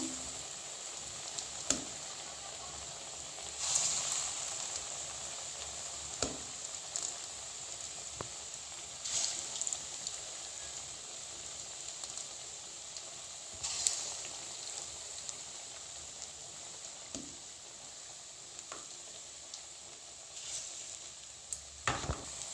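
Teasel gourd and lentil chops fry in oil over lowered heat, giving a steady bright sizzle with louder crackling surges and sharp pops and clicks now and then.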